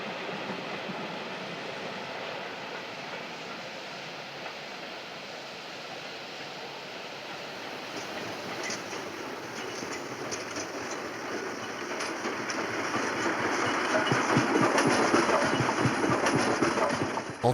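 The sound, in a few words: Decauville locomotive picking up speed on main line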